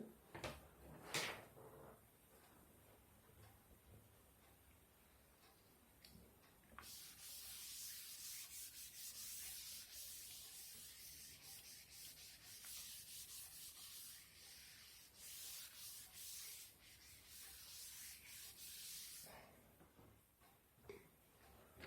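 A board is erased in a classroom lecture with repeated scratchy rubbing strokes, a few short swipes followed by a long, fairly loud stretch of back-and-forth wiping, and no talk over it.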